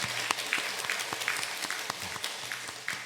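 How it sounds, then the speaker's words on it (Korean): A Korean church congregation at Sunday worship claps in thanks to God, and sharp, fairly regular hand claps stand out clearly over a soft, steady room background at moderate loudness. "모든 사역을 잘 마치게 하신 우리 하나님께 영광의 박수, 감사의 박수를 하겠습니다."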